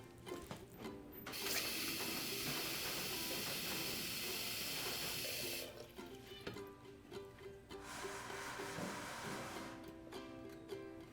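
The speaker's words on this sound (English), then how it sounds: "So I will fill up my vase with the water" Tap water running hard into a flower vase, a loud steady hissing rush that stops, then a second shorter burst of flow, with clinks and handling noises in between.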